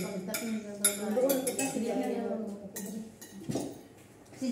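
Dishes and plates are washed, with clinks of cutlery, ceramic and glass knocking in irregular bursts, close by, under ongoing talk.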